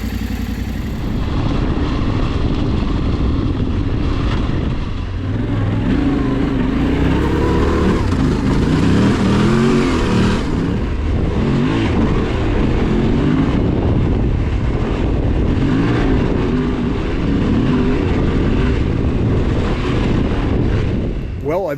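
Yamaha Tenere 700 adventure motorcycle being ridden, a continuous loud engine drone with shifting pitch as it accelerates and eases off, mixed with heavy wind rush from the riding position.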